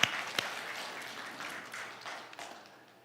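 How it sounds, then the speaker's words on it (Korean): A Korean church congregation gives a welcoming round of applause, a moderate crowd clapping with a couple of sharper individual claps at the start, gradually tapering off over a few seconds. "저기 있는 분을 바라보고 박수로 격려로 환영합니다"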